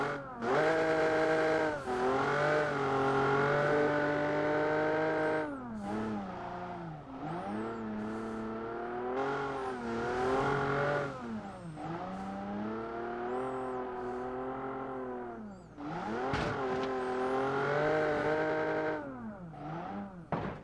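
A BAJA competition car drives uphill, its engine revving and whining in repeated rising and falling surges for about twenty seconds, loud and steady without speech.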